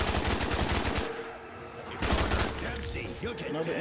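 Rapid automatic bursts from an RPK machine gun in Call of Duty Zombies VR on the dust2 map, loud and continuous with a short pause midway before firing resumes.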